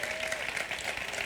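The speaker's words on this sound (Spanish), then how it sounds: "Aplausos para el Señor." A church congregation applauds during an evangelical Spanish-language sermon, a brief burst of dense, even clapping filling the room with a faint tone underneath.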